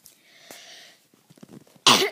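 A single sharp, loud cough bursts out near the end, after a stretch of quiet rustling and faint murmuring.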